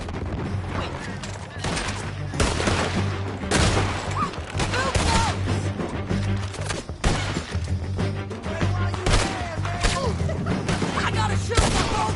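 Rapid, dense gunfire from a Red Dead Redemption 2 shootout, with repeated loud cracks of rifles and pistols overlapping in a continuous fusillade that lasts throughout.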